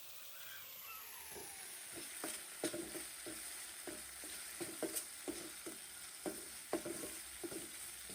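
Chili and coriander powder frying in oil in a pan for an egg korma, a soft steady sizzle broken by repeated quiet scraping stirs.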